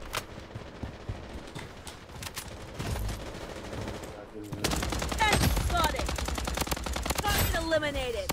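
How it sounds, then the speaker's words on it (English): Gunfire in the shooter game Bloodstrike, scattered sharp shots early, then a sustained loud burst of rapid automatic fire in the second half, with game effects layered underneath. "Oh, someone shooting me from behind"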